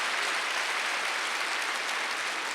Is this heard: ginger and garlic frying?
no